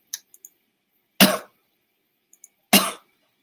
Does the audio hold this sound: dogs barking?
no